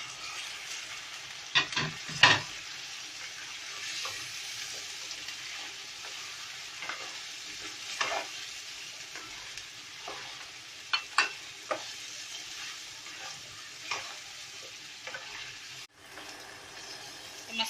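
Chicken frying with spices, garlic and ginger over high heat for chicken karahi, a constant hissing sizzle with occasional stirring scrapes and sharp clinks against the pot, close and moderately loud.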